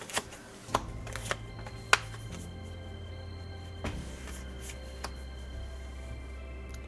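Oracle cards shuffled for a tarot reading, a few soft riffling bursts and sharp taps near the start, then quiet handling over a low steady background hum, close and faint, no voices.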